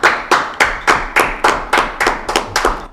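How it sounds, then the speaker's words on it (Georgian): Clapping at a Christmas tree-building presentation: about a dozen sharp, evenly spaced claps in a steady rhythm, close and loud, like a small group or a single person. "იმსახურებს აპლოდისმენტებს."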